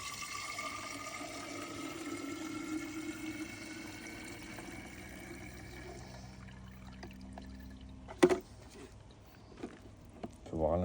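Liquid pouring into a glass container during gold recovery from computer components, a steady trickling wash with rising tones as it fills, followed by a few clinks and knocks.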